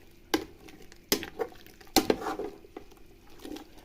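Vegetable salad being stirred in a pot as it boils, heard as a few wet clacks and scrapes of a spoon against the pot, each followed by soft liquid sloshing and bubbling.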